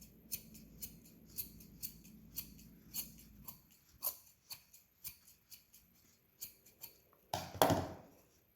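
Sharp snips of scissors trimming plush fur on a handmade Easter chocolate holder, a steady series of close, crisp cuts with a louder rustle of fabric near the end.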